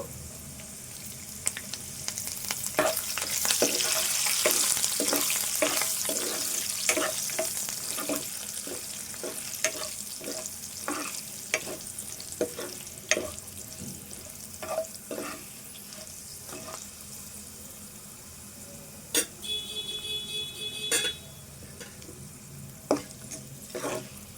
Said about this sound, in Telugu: ఇవన్నీ కూడా దోరగా వేపుకోవాలి కరివేపాకు